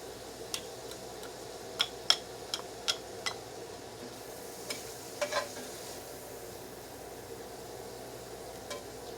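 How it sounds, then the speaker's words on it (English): Onions, squash and mushrooms cook in a skillet that was used for ground beef, with a faint steady sizzle broken by sharp clicks and taps of a utensil stirring against the pan. "I'm going to be cooking my vegetables in the same skillet."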